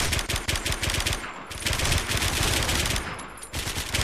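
Rapid automatic gunfire in the Warmode video game rattles in dense, loud bursts, with two brief pauses between volleys.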